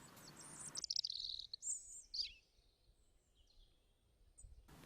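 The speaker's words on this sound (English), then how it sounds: "And the birds, they're singing something." Birds give a few bright, high chirps and short song phrases, fairly close, with quiet gaps between them and little else around.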